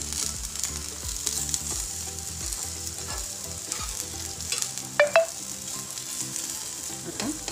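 Stuffed okra (bharli bhendi) frying in an uncovered pan gives a steady, close sizzle throughout, with a couple of brief metallic clinks partway through. No one speaks.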